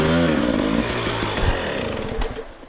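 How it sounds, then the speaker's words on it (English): A Husqvarna TC65 two-stroke dirt bike engine revs loud and close on a hard enduro trail, its buzzing tone rising and falling with throttle and clutch, with no talk over it. "Trav, keep your revs a bit lower and just really ride the clutch"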